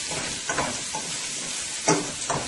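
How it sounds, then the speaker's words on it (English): Dal seasoned with turmeric fries in a pan with a steady sizzling hiss, broken by a few short scraping stirs of a spoon. No one speaks. "I'm going to let this fry for about another minute or so"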